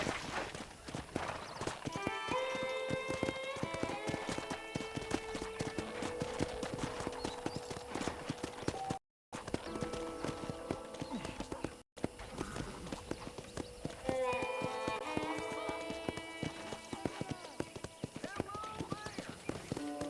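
Hooves of a ridden horse in Red Dead Redemption clip-clop in a steady rhythm close by, under a voice talking over most of it, with brief drops to silence partway through.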